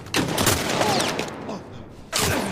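Gunfire in The Last of Us Part 1, with sharp loud shots cracking in quick succession at the start, fading out, then another burst right at the end.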